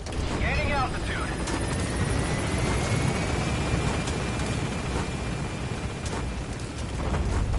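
A helicopter lifts off in the video game Metal Gear Solid 5, its rotor and engine making a steady, loud, dense roar that holds for the whole stretch, with a faint whistling tone rising early and a brief voice near the start.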